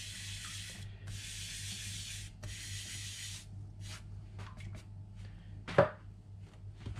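Steel knife blade sharpened on a Naniwa Aotoshi green whetstone with slurry, three long, close, gritty grinding strokes followed by quieter short rubs and a brief knock.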